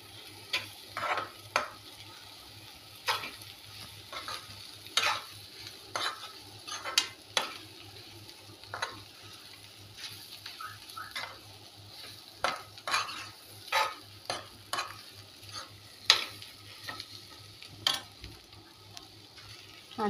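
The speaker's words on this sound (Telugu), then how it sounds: "కొత్తిమీర వేసుకొని ఇలా మిక్స్ చేసుకున్నాం మొత్తము." Egg fry with coriander and ponnaganti leaves is stirred in a pan. Repeated scraping strokes of a spatula come at an uneven rhythm over a soft, steady sizzle, close and clear.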